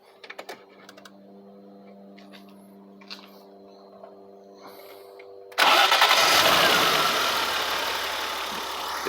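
A 1991 BMW E30 325i Touring engine cranks and catches near 5.5 seconds, then settles into a loud, steady idle after a quiet stretch of faint clicks and a low hum.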